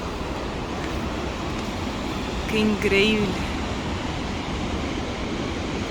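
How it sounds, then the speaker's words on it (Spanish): Waterfall of the Bonito river pours in a steady broadband roar that fills the whole clip, with a person briefly speaking over it near the middle. "Llegamos a la cascada del río Bonito."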